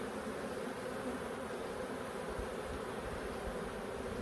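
Honey bees hum steadily and continuously during a hive inspection in a bee yard, a dense close swarm drone with no voices.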